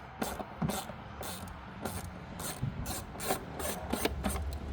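Screws being backed out of the air filter housing on an R60 Mini Countryman S, a quiet rhythmic ratcheting rasp with regular clicks repeating steadily, close and alone.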